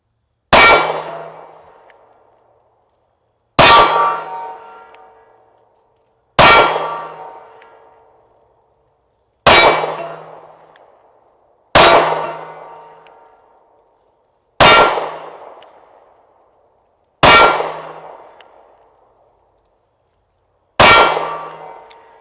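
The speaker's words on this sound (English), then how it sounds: "We'll shoot a group of 8 shots. Just do this slow fire and try to shoot the best group I can." Eight evenly spaced slow-fire shots from a Smith & Wesson M&P Shield Performance Center pistol, each a sharp, loud crack with a ringing decay, separated by pauses of about three seconds.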